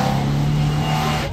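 An old Porsche engine holding a steady, loud mid-pitched drone with a low hum at a busy Monterey Car Week street scene, close and continuous for a brief moment, no talking.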